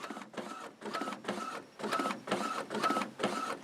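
An Epson WF-2650 inkjet printer runs nearby in a steady rhythm of about seven short mechanical bursts, each a whirring carriage pass with a faint whine, separated by brief pauses.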